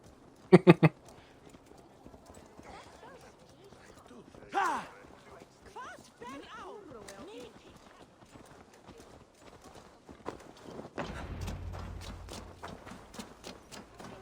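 Horse hooves clip-clop in a steady trot in Assassin's Creed Valhalla, under game music and ambient sound, with a few sharp clacks at the start and a low rumble near the end.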